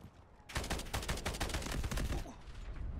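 Gunfire in the Delta Force video game, a dense burst of rapid, loud shots rattling for about two seconds after a quiet start, then fading into lighter background noise.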